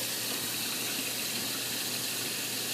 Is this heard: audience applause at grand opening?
no